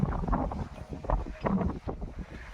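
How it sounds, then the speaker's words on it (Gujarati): Strong wind sweeps across an open farm field, buffeting the microphone in deep, rumbling gusts that surge and ease several times over a couple of seconds. "હજી પવન બહુ લાગે."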